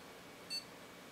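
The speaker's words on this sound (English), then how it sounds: "We should hear a beep." A desktop PC with an Intel Core 2 Quad Q8400 at 3 GHz gives its POST beep while booting: a single short, clear electronic beep over quiet background hiss.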